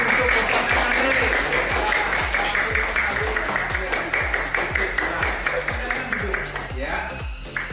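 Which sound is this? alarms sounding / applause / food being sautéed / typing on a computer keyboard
applause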